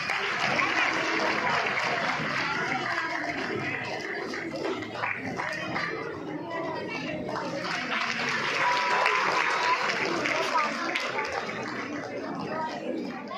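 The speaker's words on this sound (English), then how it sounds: "Applause everyone, applause" Sustained applause from a large audience at a school annual day in a hall, steady and dense throughout, with a loudspeaker voice and crowd chatter mixed in.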